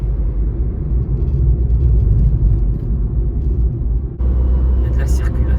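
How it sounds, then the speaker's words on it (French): Steady road traffic at a town square, a continuous low rumble of cars passing close by, with a brief dip before the engine noise resumes. "Il y a de la circulation."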